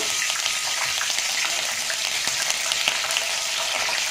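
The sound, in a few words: curry leaves frying in oil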